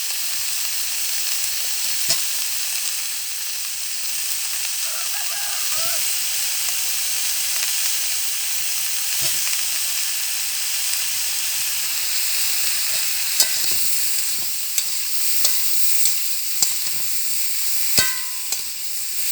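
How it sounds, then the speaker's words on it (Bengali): Cauliflower fries in a pan with pre-fried potatoes and yam, giving a continuous loud hiss and sizzle. Scattered sharp clicks and scrapes from stirring run through it. "এই দেখুন আমার ফুলকপিটা কতটা ভাজা হয়ে গেছে, ভাজা ভাজা মতো, এখনো ভাজতে হবে।"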